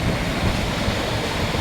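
Canal water rushes strongly past in a steady, loud, unbroken roar that fills the whole moment, with no voices.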